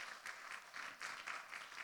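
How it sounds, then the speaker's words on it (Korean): A church congregation claps together during a Sunday worship service, a dense, steady patter of many hands in a crackly wash that pulses slightly in strength, moderately quiet and with no talking. "우리 그들에게도 수고한다고 박수 한번 쳐주세요"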